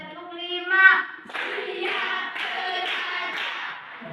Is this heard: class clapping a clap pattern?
yes